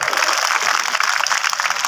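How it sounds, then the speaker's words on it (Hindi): Loud crowd applause at an outdoor mahapanchayat rally, dense continuous clapping from a large gathering filling the whole stretch with no pause. "बार मां शक्ति के लिए आप लोग जोरदार तालियां बजाएं"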